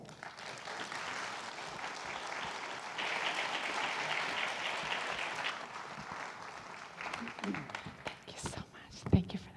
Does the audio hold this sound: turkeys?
no